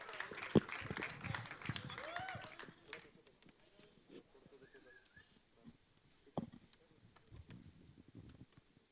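Audience applause and cheering for actress Mrunal Thakur at a film trailer launch event, loud and dense at first, then thinning to scattered claps and crowd noise.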